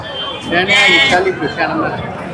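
Sheep rams bleating at the Ranipet goat market in Tamil Nadu, a few wavering bleats over loud, busy crowd chatter and nearby voices.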